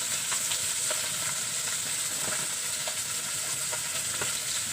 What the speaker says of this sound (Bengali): আমার মাছগুলি এক পিঠ ও পিঠ দুনো পিঠ ভাজা হয়ে গেছে।